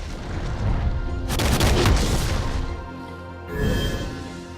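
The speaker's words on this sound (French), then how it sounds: "demande à son navire de tirer des salves de boulets de canon à portée globale" A barrage of booming cannonball impacts from a video game rumbles in overlapping bursts, with a second wave of blasts following, loud and dense like cannon fire.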